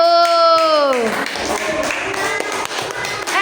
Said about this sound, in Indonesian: Ya, tepuk tangan buat kelompok 1.